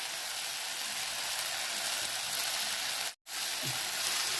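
Steady frying sizzle of tomatoes cooking down in a pan for Rayalaseema Kurnool-style uggani as spice powder is stirred in, a continuous close hiss with a brief break and faint stirring scrapes.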